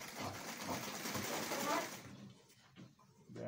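A sewing machine stitches a kids' rope trouser, a quiet close whirring run for about two seconds before it stops, followed by faint handling noise.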